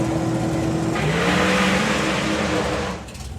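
A 560-cubic-inch doorslammer drag race car launches hard off the start line, its engine roaring loud and steady with a rising pitch before cutting off near the end.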